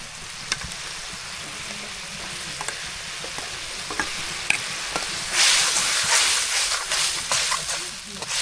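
Fish frying with mustard in a pan in a village kitchen, a steady sizzle that swells into a louder, hissing burst partway through, with occasional scraping stirs and a faint voice underneath.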